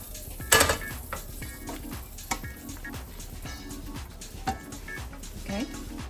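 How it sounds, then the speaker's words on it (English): Spoon scraping and clinking against a pan while ground beef is stirred for homemade hamburger helper, irregular metallic knocks and scrapes close by with faint background talk. "Stir it around. Give it a good stir."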